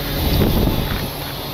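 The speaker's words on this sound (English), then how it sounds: "So windy." Strong outdoor wind buffeting the microphone, a steady loud rushing roar throughout the short clip with no other clear sounds.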